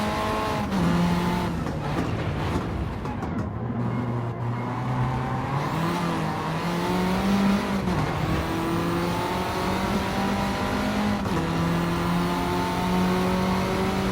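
Race car engine in Gran Turismo 7 at Laguna Seca, loud and close, with rapid revs rising and dropping through downshifts under braking and faint tire squeal, no talking.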